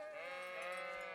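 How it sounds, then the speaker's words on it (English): A sheep in Kingdom Come: Deliverance gives a single drawn-out wavering bleat, close and clear, with nothing else heard over it. "He's making the sheep noises."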